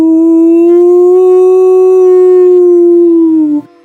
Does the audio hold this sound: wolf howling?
yes